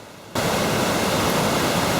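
Water roars from the opened sluice gates of the Polgolla Mahavali Dam, a loud, steady, broadband rush that bursts in abruptly after a brief quieter moment and then holds constant.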